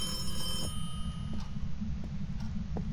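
Telephone ringing inside the horror video game Phasmophobia, a steady electronic ring sustained throughout with faint ticking accents over a low rumbling background.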